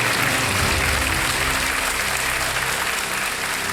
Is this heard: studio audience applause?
yes